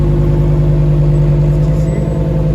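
An Audi RS6 and a Lamborghini Huracan roll past at night on Monaco streets during the Grand Prix weekend, producing a loud, steady low engine drone with a constant hum and no clear pass-by swell.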